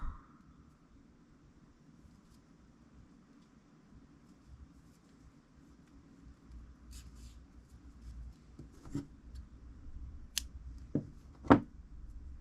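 Scissors snip through a crochet yarn tail on a small amigurumi pumpkin, a few quiet close cuts near the end after a faint rustle of handling, with no talking.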